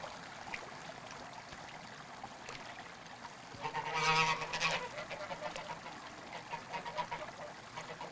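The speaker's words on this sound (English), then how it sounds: "And there were geese." Geese honk in a brief, distant flurry of overlapping calls that swell and fade against a faint outdoor background, with no voices present.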